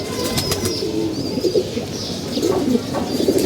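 Pigeons coo repeatedly in soft rounded calls over a steady outdoor background, with occasional chirps from other birds, where a pigeon keeper flies his birds for racing early in the morning.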